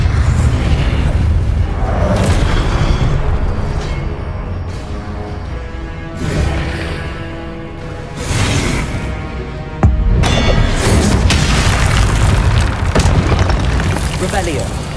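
Explosive Confringo spell blasts in the video game Hogwarts Legacy, several loud booming bursts over a dense battle and music backdrop, with the heaviest hits near the start, middle and around the tenth second.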